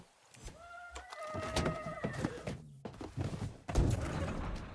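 A horse whinnies in a high, wavering call, then a few thuds and clip-clop sounds follow in a short, quiet scene from the video game Far Cry 6.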